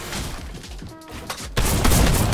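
Drum-fed shotgun blasts in a shooter video game, a burst of loud, dense gunfire that erupts midway and keeps going in a rapid volley.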